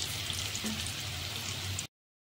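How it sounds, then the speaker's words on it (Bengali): Potato pieces frying in hot oil in a pan, a soft continuous sizzle with faint crackles and pops, low and steady for about two seconds before stopping. "ভেজে নিচ্ছি, লাল লাল করে ভেজে নাবিয়ে নেব"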